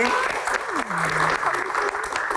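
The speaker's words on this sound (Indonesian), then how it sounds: "Kita kasih tepuk tangan" An audience claps for panelists at a Q&A session on Gus Dur, a brief, steady burst of crowd applause with a voice talking over it.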